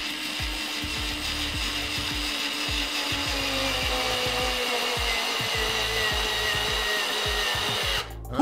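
Electric screwdriver on torque setting 1 driving a screw, a steady close motor whine with a fine grinding, rasping texture running continuously for about eight seconds before cutting off at the end.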